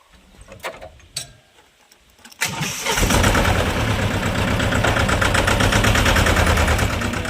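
A small tractor engine on a village farm: a few quiet knocks and clunks, then the engine fires up loud and settles into a steady close chugging idle.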